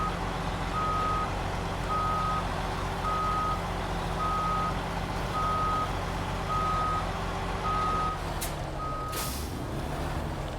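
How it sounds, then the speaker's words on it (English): Video game truck hauling a mud-covered trailer backs up on the North Peak National Park map, its reversing alarm beeping in an even rhythm over a steady engine drone, then an air brake hisses near the end. "Let's just reverse back into a position where I can spin around"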